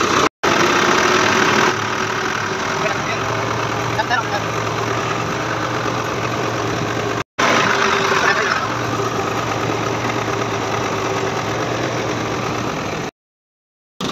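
Tractor engine chugging steadily at close range, a constant low rumble with a knocking beat, briefly cut out twice, while voices talk faintly over it.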